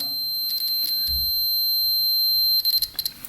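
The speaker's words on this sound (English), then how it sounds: "Continuity tester. We should hear a beep right now." A continuity tester on a 1200cc motorcycle that won't start gives a high, steady electronic beep continuously, then breaks into a few short stuttering beeps at the end.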